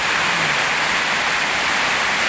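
Rain falls steadily in a rural Thai setting, a dense, even hiss of water that stays loud and unchanging throughout, with no voices.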